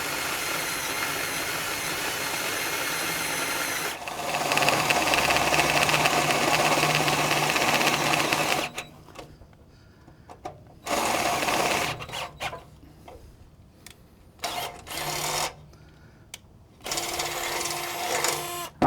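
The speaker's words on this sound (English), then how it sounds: "we're gonna start our pilot hole with a little 1/8 bit. So I'm just steadily graduating up until we eventually hit 1/2 of an inch." Power drill boring through the steel of a Lonestar Grillz offset smoker, stepping up through bits to a half-inch hole; a steady, loud whining grind runs for about eight seconds, then shorter bursts of drilling follow with brief pauses.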